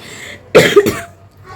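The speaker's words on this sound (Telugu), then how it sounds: "కాఫ్ అయితే అస్సలు తగ్గట్లేదండి" A woman gives a sharp double cough, two quick close bursts standing out against a quiet background, with no talk.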